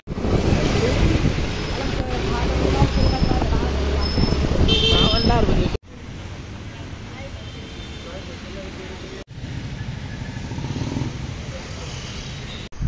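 Motorbike riding along a road, with steady loud wind buffeting and engine and traffic noise throughout and a brief horn toot, cut into three segments.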